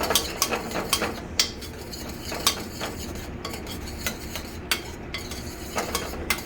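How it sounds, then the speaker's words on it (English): Lime juice mixture stirred vigorously with a metal utensil, producing rapid repeated clinks and scrapes against the bowl, close and steady throughout without talk. "And stir like crazy again."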